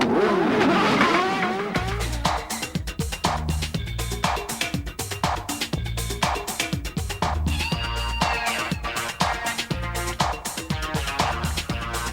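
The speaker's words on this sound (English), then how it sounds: "Start your engines." Race car engines from the 1994 IndyCar season with Newman-Haas start up and rev hard, a loud, continuous roar with sharp rising and falling revs throughout and no voices.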